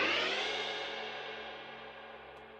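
A sped-up fade-in effect applied to an audio track: a sustained, dense tone that starts loud and gradually thins and quietens over a few seconds, with no speech.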